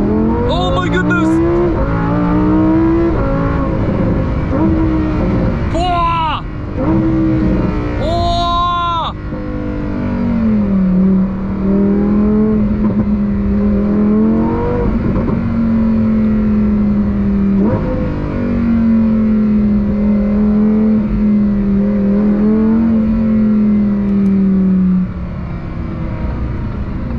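A Lamborghini Huracan STO drones loudly from inside the cabin, with quick revs rising early, then a steady, slightly wavering engine tone as it keeps driving.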